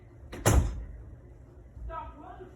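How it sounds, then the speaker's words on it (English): A door swings shut with one loud thud, followed a moment later by a softer knock or rattle, heard close in an indoor room. "Shut my door."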